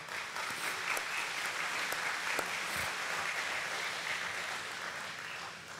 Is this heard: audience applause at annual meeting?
yes